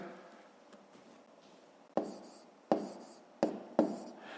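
Pen strokes on paper as numbers are written by hand for a school multiplication exercise: a few soft scratches, then four sharper taps and strokes close up in a quiet room.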